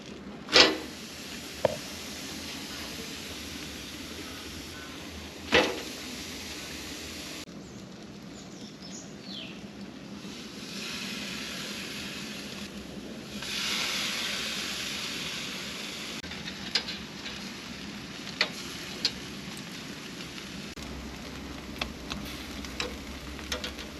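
Beef burger patties and streaky bacon sizzle on a braai grill, a steady low crackle running throughout with scattered sharp pops and ticks, near and moderately loud, with no talking.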